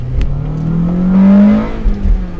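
A converted 1999 Honda Civic Type R accelerates hard from close by, its engine revving up to a rising whine and then dropping back as it shifts gear.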